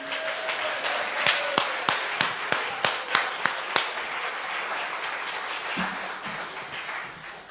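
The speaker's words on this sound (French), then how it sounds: "Est-ce que vous pouvez donner une main d'applaudissement encore plus extraordinaire à Jésus?" Church congregation applauding for Jesus during a worship session: a run of sharp, evenly spaced claps rides over a softer bed of crowd applause, then the clapping thins and fades out.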